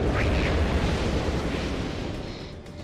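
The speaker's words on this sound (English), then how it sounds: "Mortar them all." Mortar shells explode in the PS2 role-playing game Legaia 2: Duel Saga as one dense, roaring blast that fills the clip and slowly fades over a few seconds.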